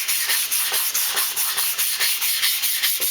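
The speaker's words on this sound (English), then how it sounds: "So just light sand, 220 sandpaper, 220 grit" A wooden dice tower is lightly hand-sanded with 220-grit sandpaper, making a brisk, rhythmic rubbing of quick back-and-forth strokes, close and fairly loud, with no talking.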